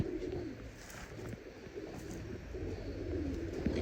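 Sick racing pigeons coo softly inside a loft, low murmuring calls overlapping against a faint background hum with occasional light rustles.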